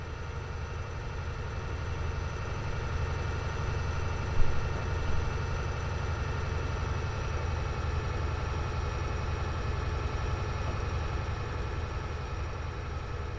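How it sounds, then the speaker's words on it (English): A diesel locomotive in the Train Simulator game, on the Settle to Carlisle line pulling bogie bolsters with containers, hums as a steady low engine drone with faint whining tones and one brief knock midway, no talk. "I'm going to listen to the sound of this diesel as we're going through the main line"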